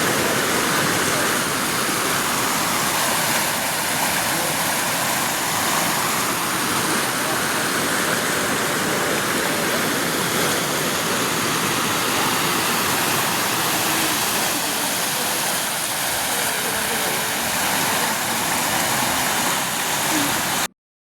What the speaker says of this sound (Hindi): झरने के पानी की आवाज़